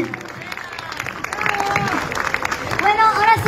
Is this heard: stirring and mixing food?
no